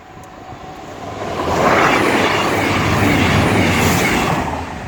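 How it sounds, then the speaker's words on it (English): A CrossCountry Voyager train passing a level crossing at Killingworth, Tyne and Wear, as a broad, steady roar that swells and fades over several seconds, heard with no voices. "Cross country Voyager"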